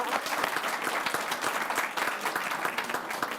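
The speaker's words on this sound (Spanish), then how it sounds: "Aplausos, por favor, para el director." A crowd in a lecture hall applauds the journalism program director, giving dense, steady clapping from many hands that keeps going at an even level throughout.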